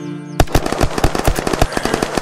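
Rapid bursts of gunfire from an overpowered gun in the video game Unturned, loud and close, firing in a quick steady rhythm after a brief quiet start, with no talk.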